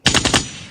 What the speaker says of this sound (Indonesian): Suara apa itu? Ada orang bakar petasan.